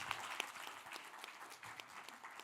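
A conference audience applauds to welcome a psychiatry professor to the stage, a brief, faint, distant patter of clapping with a faint voice underneath.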